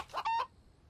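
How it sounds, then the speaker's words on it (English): Rooster clucking in The Infected video game: two short, close clucks in quick succession, then quiet. "I saw that rooster."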